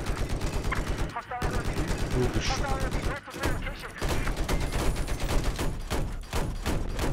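Dense video-game gunfire from Battlefield 4 multiplayer on the Flood Zone map: rapid automatic bursts and overlapping shots run nearly nonstop and loud, with excited players talking over the shooting.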